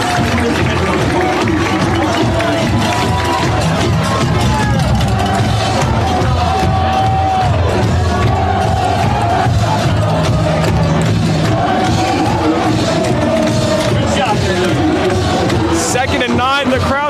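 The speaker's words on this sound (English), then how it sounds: "the crowd's going nuts" A packed crowd at a varsity high school football game against Eastside roars and cheers steadily throughout, loud and continuous, with a commentator talking over it.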